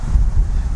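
Wind buffets a microphone out on a golf course in a short, steady, rumbling gust, loud and low, with no voices over it.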